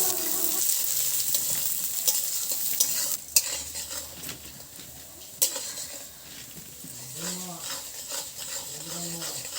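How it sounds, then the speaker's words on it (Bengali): Black gram lentils fry and get stirred in a pan for a vegetarian khichuri, a steady sizzle with scraping stirs and a couple of sharp utensil knocks, with a voice murmuring briefly in the background. "কালাইগুলো ভালোভাবে ভাইজা নেব"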